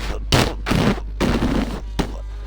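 A voice imitates the crackling, popping bursts of a racing car's blown diffuser as it leaves Acqua Minerale at Imola, with three or four rough, breathy blasts separated by short gaps over a low steady hum.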